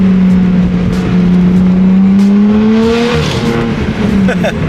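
A BMW F80 M3 engine revving hard with its exhaust valves open, a loud, close, rising and falling roar with a raspy drone that climbs in pitch and then steps down, filling the clip with no clear speech.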